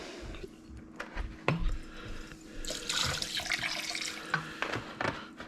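Kitchen tap running water while meat is cleaned for Jamaican jerk chicken and BBQ ribs, a faint steady flow with splashes and clinks in a sink, quiet and close.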